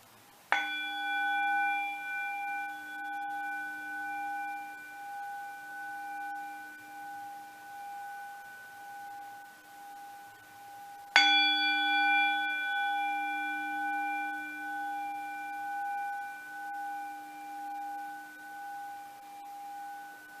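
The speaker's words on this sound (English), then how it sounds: "Let me just ring the bell here so that you can concentrate and choose your pile." A metal bell, such as a singing bowl or chime, is struck twice about eleven seconds apart, each strike ringing out with a clear sustained tone that decays slowly in a quiet room.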